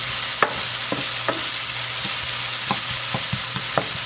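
Sauce for tilapia parmesan sizzles steadily in a pan while a wooden spoon stirs it, giving a constant broadband frying hiss with scattered sharp scrapes and taps from the spoon against the pan, close and fairly loud.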